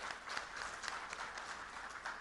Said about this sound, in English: I think they deserve a big round of applause for that.